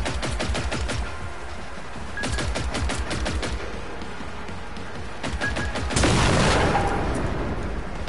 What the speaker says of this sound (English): I'm sorry for shooting your friends